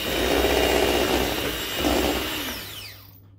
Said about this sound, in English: So now I'm going to take the electric whisk and just work these into the